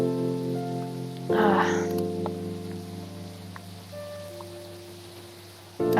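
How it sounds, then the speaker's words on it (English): Steady rain falls over a night street in Seattle in Coffee Talk, a soft continuous patter under gentle background music with a brief louder splash partway through. "It just rains a lot tonight in Seattle, huh?"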